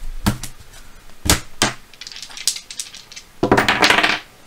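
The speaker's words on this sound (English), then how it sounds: "All right, let's roll our dice." Dice are rolled for a trading-card random-hit break, giving sharp clattering knocks followed by a longer rattling tumble, close and loud with no talking.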